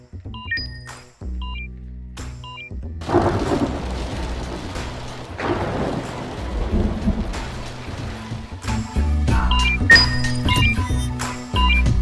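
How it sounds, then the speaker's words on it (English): A thunderstorm sound effect played through a Samsung Q80T TV, with deep rolling thunder and steady rain, interspersed with sharp clinking tones and pauses; loud and close. "Let's try again the thunder sound effect."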